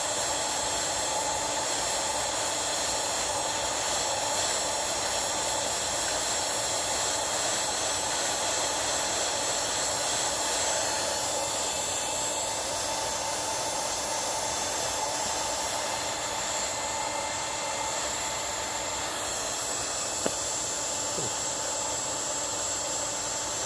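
A small handheld vacuum sucks pollen off the petals of a Stenocereus martinezii cactus flower, a long, steady, close motor whine with a breathy airflow hiss, nearly unchanging throughout, with a faint click near the end.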